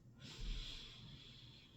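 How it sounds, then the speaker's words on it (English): A single deep inhalation during a guided breathing exercise, a soft airy breath that swells quickly and then trails off gently, close and quiet with no talk over it. "Take a deep breath"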